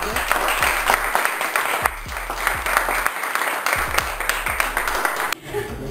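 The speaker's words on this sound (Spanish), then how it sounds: "les pido un aplauso para todos" Room audience claps for participants of an aquascaping course, a lively burst of close, individually distinct hand claps in uneven rhythm that cuts off abruptly near the end.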